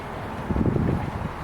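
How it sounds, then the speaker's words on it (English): Wind buffets a microphone outdoors beside a golf cart, a low, steady rumble that swells into louder gusts in the middle of the clip before easing off again. No one speaks. "Sorry about the wind."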